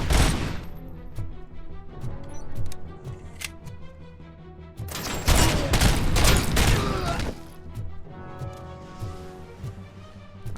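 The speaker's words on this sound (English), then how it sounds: "That sounds like a rocket." A rocket blast in RoboCop Rogue City erupts as a loud, broad explosion midway through, surrounded by scattered single gunshots and a rumbling tail.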